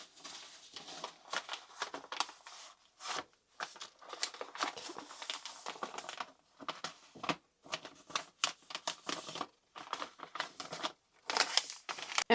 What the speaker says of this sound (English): I just went ahead and cut a random size of the paper, and then I am just going to fold it into the shape of a manila envelope.